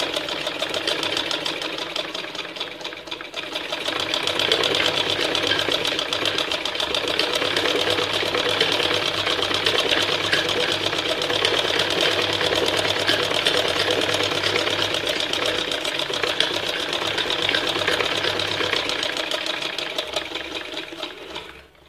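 Sewing machine running steadily while stitching the hem of a salwar leg opening, a continuous whirring hum with fast rhythmic needle clatter that holds for about twenty seconds at close range, with no talking.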